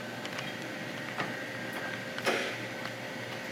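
An industrial roll packaging machine cutting pouches runs with soft mechanical whirring, punctuated by a few brief clicks and one sharper cutting snap near the end.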